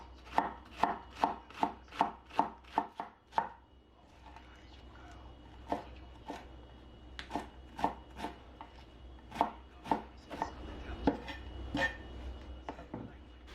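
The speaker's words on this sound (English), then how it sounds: "Chop 100 grams of cabbage." Knife chopping cabbage on a cutting board, a fast run of about a dozen crisp, evenly spaced chops, then slower, scattered cuts with faint rustling and kitchen handling between strokes.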